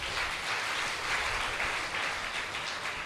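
Quiet, even applause from an audience at a devotional Bhagavatha Katha discourse, a soft continuous wash of clapping heard at some distance, with no voices above it.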